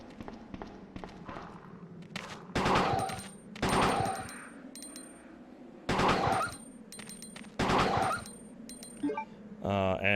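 Gunfire bursts at a security camera in Resident Evil 2, several loud rapid volleys of shots separated by pauses, with someone talking quietly between and under them.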